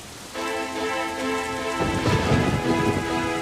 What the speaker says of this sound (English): It's just a little thunder.